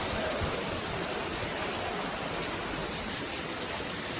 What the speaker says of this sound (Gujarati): જો ઝરમર ઝરમર ચાલુ. જો હવે મેં આવ્યો એમ નહીં, હવે આવ્યો વરસાદ.